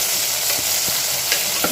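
Steady sizzling of onions, chilies and tomatoes sautéing in a hot pan, with a few soft stirring scrapes, continuous and close, no talking.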